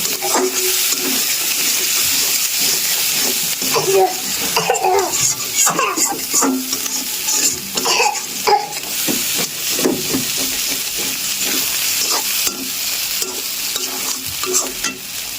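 Prawns sautéing with chili powder in a pan while being stirred, for Bengali chingri bhuna: a steady loud sizzle with repeated scraping stir strokes and clatter throughout, no talking.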